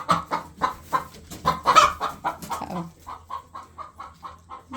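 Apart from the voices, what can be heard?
hen clucking in a chicken coop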